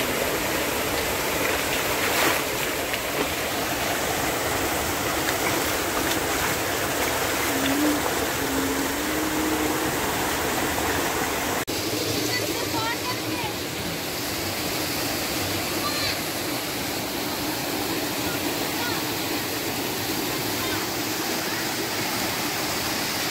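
A waterfall pours over rocks in Malappuram, a loud, steady roar of rushing water that stays constant throughout, with faint voices beneath it.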